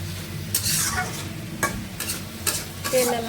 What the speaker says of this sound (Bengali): কী রান্না করতেছ পাঙাশ মাছ